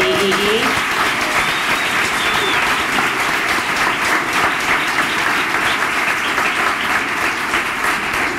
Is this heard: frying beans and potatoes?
no